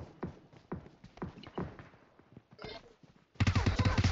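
Gunfire in PUBG Mobile, scattered single shots early on, then a loud sustained rapid burst near the end, with brief voices mixed in.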